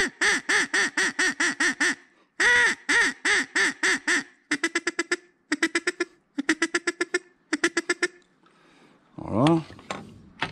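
Duck hunting call imitating quacking ducks, blown in rapid rhythmic bursts of nasal quacks, first long runs and then shorter clipped series, close and loud, ending with a rough slurred call.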